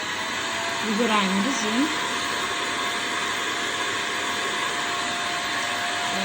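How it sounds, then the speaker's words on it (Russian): An AIMON-04 Pro Cleaner washing vacuum cleaner runs with a loud, steady, close motor whine and airflow roar throughout, and a person speaks briefly over it near the start. "Включаем пылесос."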